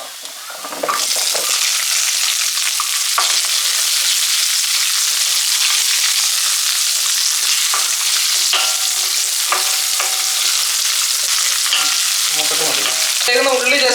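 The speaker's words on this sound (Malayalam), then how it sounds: "ഇഞ്ചി വെളുത്തുള്ളിയൊക്കെ ഒന്ന് മൂത്തതിന് ശേഷം നമുക്ക് ചെറിയ ഉള്ളി ഇട്ട് കൊടുക്കാം" Shallots frying in hot oil with ginger and garlic for a Kerala-style squid roast give a loud, continuous close sizzle with scattered stirring scrapes and pops throughout.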